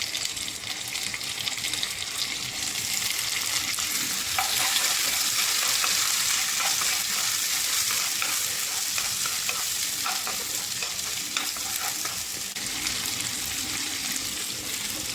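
Red onion and crushed garlic fry in a hot pan, a dense steady sizzle with occasional stirring scrapes, close and continuous throughout without any talk.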